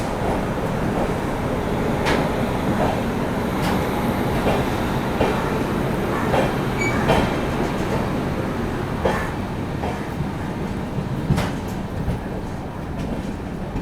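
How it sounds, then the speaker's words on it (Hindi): The Rani Kamalapati superfast train pulling out of LTT Mumbai station, a steady loud rumble of rolling coaches with faint intermittent clicks of wheels over rail joints, no talk. "अपनी रानी कमलापति सुपरफास्ट अभी निकल गई है LTT मुंबई रेलवे स्टेशन से"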